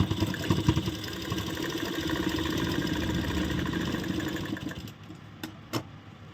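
A sewing machine stitches the final seam of a piped kurti, running with a rapid, steady mechanical whir for about five seconds up close before stopping, followed by a couple of brief clicks.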